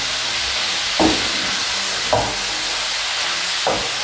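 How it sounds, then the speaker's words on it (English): Beef stew seasoned with salt, stirred in a hot pan: a steady hiss of frying runs throughout, broken by three brief scraping stirs spaced about a second apart. "continue to stir."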